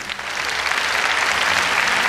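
An audience at the 2002 European Standard ballroom championship in Denmark claps after a slow foxtrot performance. The dense, even applause fills the hall and holds steady throughout.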